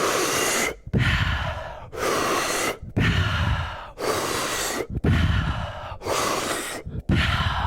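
Breathwork circular breathing, deep inhales through the belly and chest followed by long exhales, repeats as seven loud, close breath cycles in a steady rhythm, each separated by a brief pause, with no talking.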